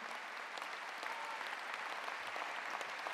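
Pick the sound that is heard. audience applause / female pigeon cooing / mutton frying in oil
audience applause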